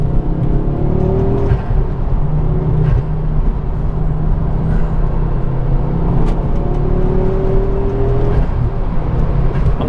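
A Ford Focus RS Mk2 driving on the road, a loud, close, continuous engine rumble with the revs rising and easing, steady tyre and road noise beneath, and no voices.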